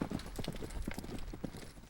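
Horse hooves clip-clop in a quick, regular rhythm of close, distinct beats on a Texas cattle ranch, with faint voices in the background.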